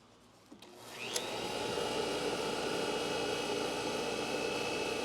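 A valve grinding machine starts up and spins to a steady loud whirring hiss while grinding the face of a stainless steel engine valve from a Mercedes 300SL Gullwing cylinder head, with no talk.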